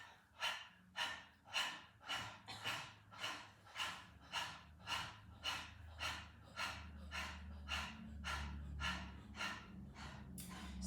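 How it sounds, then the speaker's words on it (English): Breath of Fire in a Kundalini yoga class: steady, bouncy, forceful exhales like a panting dog, about a dozen and a half sharp breaths repeating at a quick, even rhythm, close and fairly loud with no talking. "I like to have new students stick out their tongue like a dog and pant like a dog."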